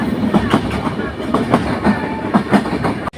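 A passenger train running on rails near Kushtia's Hardinge Bridge, heard from inside, with steady rumbling and a regular clickety-clack of wheels over rail joints, loud and close, no talk.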